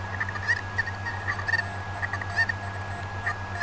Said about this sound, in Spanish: Vete para allá, gallina.